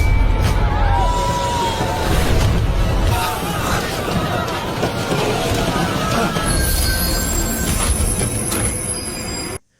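A ghost train runs on rails, its steel wheels squealing in long high tones over a steady loud rumble that continues throughout, fading out abruptly at the end.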